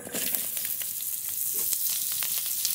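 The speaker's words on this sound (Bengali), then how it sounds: "জিরে ধনেটা আগে ভাজবো।" Cumin and coriander seeds fry in hot oil in a pan, giving a steady close crackling sizzle with a few light pops throughout, and no talking.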